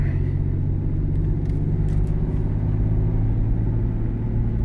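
A 2000 Nissan Pathfinder driving around town, mostly in third gear, gives a loud, steady engine rumble and road noise that holds without a break, heard from inside the vehicle with no talking.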